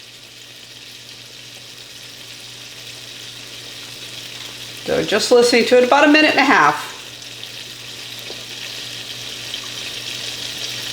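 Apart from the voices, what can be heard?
egg frying sunny side up in a pan, sizzling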